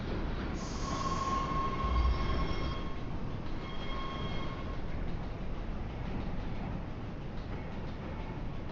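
A subway train rolls steadily in a video game, with a continuous rumble and faint high wheel squeals early on. The sound runs evenly throughout at moderate loudness.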